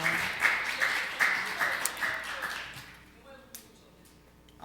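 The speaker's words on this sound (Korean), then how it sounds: "영광의 박수 올려드리겠습니다." Church congregation applauding right after a prayer, a burst of mid-volume clapping that thins out and fades within about three seconds, leaving a quieter room with a few scattered sounds.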